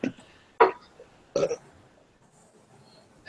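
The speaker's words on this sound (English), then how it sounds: "I was trying to hold it, so it's like half burp" A half-suppressed human burp comes out as two short, muffled bursts, faint and close in an otherwise quiet room.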